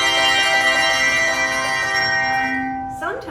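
A handbell chord shaken to sustain it rings with bright, steady overtones that slowly fade; near the end a voice begins speaking.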